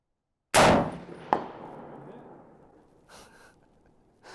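One loud shot from a Springfield M1A rifle fired at a 300-yard target, close and sharp, with a long rolling echo, a brief clank just after, and faint breathing as it fades.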